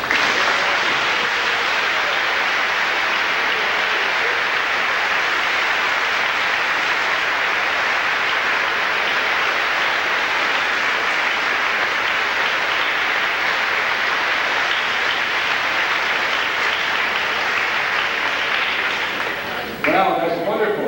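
Sustained applause from a reunion audience fills the room for about twenty seconds in a dense, even wash of clapping, with a murmur of voices mixed in, then stops abruptly near the end.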